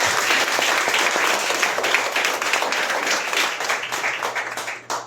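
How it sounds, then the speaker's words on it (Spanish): A church congregation at a Sunday service gives loud, dense applause that holds steady for several seconds, then breaks off abruptly near the end. "Denle un fuerte aplauso al Señor"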